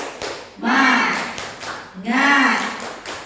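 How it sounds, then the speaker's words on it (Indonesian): A roomful of teachers at an indoor training session gives single sharp claps on cue, each a quick unified slap followed by a brief ringing decay, with a voice in the room between them. "Coba tepuk satu."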